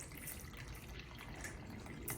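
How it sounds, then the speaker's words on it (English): Water poured into a homemade rain gauge, a steady close trickling and splashing that runs unbroken for a couple of seconds. "we're going to take some water, and we're going to fill it to the 0 line right here"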